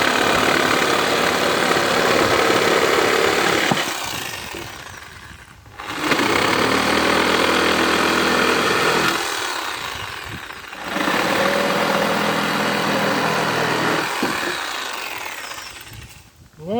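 A Parkside PFS 710 D3 reciprocating saw cuts through wood, a loud, steady buzzing drone that runs in three long bursts with brief pauses between them, close up and with no one talking.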